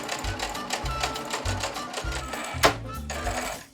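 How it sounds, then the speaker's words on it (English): Sewing machine stitches leftover craft trim onto curtain borders, running in short close bursts of rapid mechanical clatter separated by brief pauses. "I had leftover trim from a craft project that I'll be sewing onto the borders for a fun treatment."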